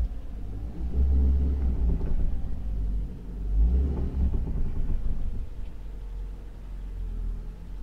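A damaged 2009 Kia Sportage limps along under its own power, giving a steady low engine rumble and drone with a couple of swelling surges, heard fairly close and without talk.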